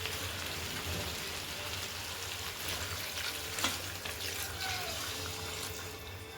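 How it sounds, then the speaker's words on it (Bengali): A pan of mutton curry keeps up a constant crackling sizzle as hot water is poured in, with a brief louder hiss and splash partway through, close and steady with no talking. "দেখছেন পুরো রসটা শুকিয়ে এসছে, এই পর্যায়ে গরম জলটা দিয়ে দেবো।"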